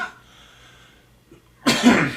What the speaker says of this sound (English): Nice smoker's cough.